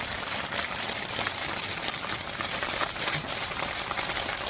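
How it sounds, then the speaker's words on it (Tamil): Rain falling outside a tent on a mountain hike to the highest peak of Dolosbage, a dense, even hiss of drops pattering on the fabric, close and continuous, with no talking. "வெளியில் வந்து மழை பெய்யுது, சத்தம் கேட்கணும்னு நினைக்கிறேன்."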